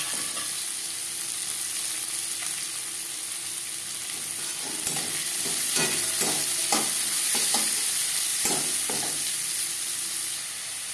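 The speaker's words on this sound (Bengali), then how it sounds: "এবার দিয়ে দেবো পেঁয়াজ কুচি।" Chopped onion frying in hot refined oil in a kadai: a steady, loud sizzle throughout, with a run of clicking scrapes from a spoon stirring against the pan partway through, no voices.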